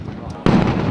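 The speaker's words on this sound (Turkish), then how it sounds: "İşte Kaddafi kuvvetlerinin top mermileri bu kadar yakında patlıyor." An artillery shell explodes nearby during fighting in Libya: one sudden loud blast lands midway through a brief moment and leaves a rumbling tail, with a voice speaking just before it.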